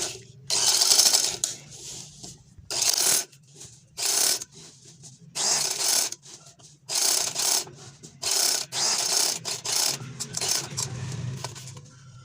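Sewing machine stitching along the edge of a fabric strip for an angrakha garment, running in repeated bursts of whirring mechanical chatter separated by short pauses, close and fairly loud with no talking.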